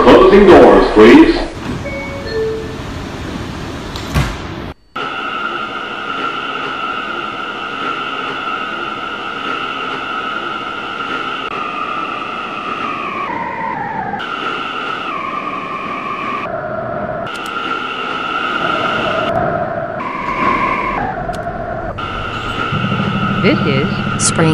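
A Roblox R179 M subway train on the IDU D/M/S Lines runs toward Metropolitan Avenue, a steady electric motor whine with tones that step up and down in pitch as it speeds and slows, continuous and close throughout.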